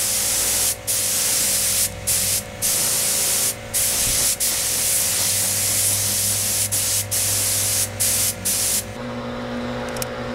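Spray gun applying black paint to restored Yamaha FZR motorcycle parts, delivering steady loud hissing bursts separated by short pauses, about ten passes in a row, close to the microphone with no talking.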